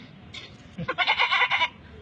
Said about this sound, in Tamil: அடுத்து ஒரு வெள்ளாடும் செம்மறி ஆடும் குரல் கொடுக்குது.